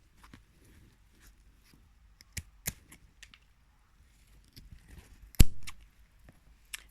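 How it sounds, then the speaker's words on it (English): Scissors snip through lavender stems in a herb garden, a handful of sharp, sparse clicks spread out, with one louder close snip near the end and quiet outdoor background between. "I'm just going to harvest this by simply cutting the stems with my scissors"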